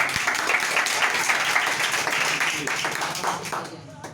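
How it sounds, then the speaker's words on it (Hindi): Children in a village classroom quiz contest in Prayagraj, Uttar Pradesh clap together in a dense burst of applause that stays loud and close, thinning toward the end, with some voices mixed in. "जोरदार ताली"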